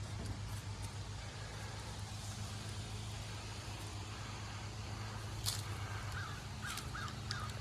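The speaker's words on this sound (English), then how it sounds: "And we have our crows." Crows caw a few times at a distance in an outdoor garden on Halloween, their short calls faint over a steady hum of traffic and engine noise.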